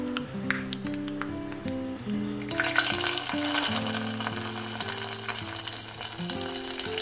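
Mustard seeds, fenugreek, dried red chillies and curry leaves frying in hot oil as a tempering, a steady close sizzle that swells partway through, with faint background music and no talk.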